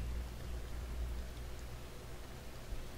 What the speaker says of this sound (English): Breathe, listening to the sound of the rain